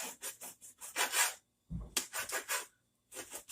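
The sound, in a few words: knife cutting steak into strips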